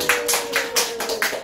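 Several quick bursts of small-handed clapping from children at a daycare puppet show, uneven and bright, repeating for about a second and a half with no voices.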